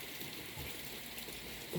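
Storm rain falls steadily on the trees beside a house in Phen district, Thailand, an even, unbroken wash of patter with no voices.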